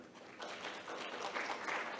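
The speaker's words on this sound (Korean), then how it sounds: "다시 한번 박 원장님께 박수를 한번 부탁드리겠고요." Applause rises from the audience at an infection-control conference session, fairly quiet and distant, a soft continuous patter of clapping that swells a little midway and keeps going.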